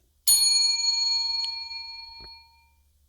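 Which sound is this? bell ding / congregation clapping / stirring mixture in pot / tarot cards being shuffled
bell ding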